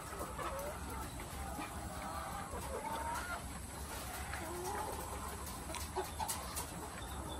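Chickens in a poultry building cluck softly and steadily, scattered calls from many birds overlapping at a moderate distance over a constant ventilation hum.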